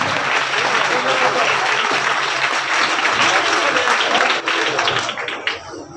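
A crowd claps at an outdoor village tree-planting event attended by an SDM official, a thick, continuous patter of many hands that stays loud for about five seconds, then thins and tapers away.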